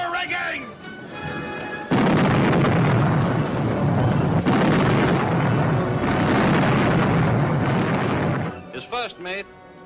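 Cannon fire in a 1953 pirate serial, a dense sustained roar of blasts and booms lasting several seconds, framed by shouted voices before and after.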